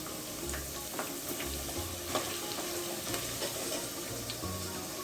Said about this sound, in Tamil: பொட்டேட்டோ வந்து நல்லா ஃப்ரை பண்ணணும்